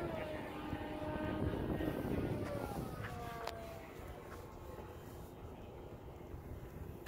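An RC Durafly Me163 model plane flies past with a steady electric whine that rises and dips as it passes, fairly near and continuous, with faint voices in the background.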